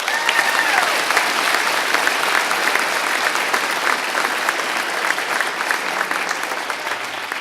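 Graduation audience at a fire academy ceremony claps steadily for a firefighter recruit, a dense, loud, sustained applause that holds for several seconds and tapers only slightly, with no clear voices over it.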